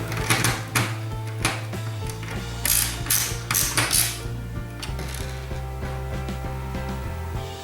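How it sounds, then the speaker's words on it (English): Small screws being driven back into a Nintendo NES console to hold the motherboard, giving a run of close, crisp metallic clicks and ratcheting ticks over a steady low hum, with no talking. "Now we're gonna put back the two screws that go on the top right corner so that the motherboard won't slip away."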